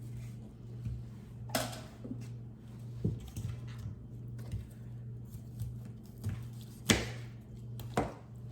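Cutting the tops off basil with a knife: several sharp, separate cuts and taps spaced irregularly over a few seconds, quiet and close against a faint steady hum.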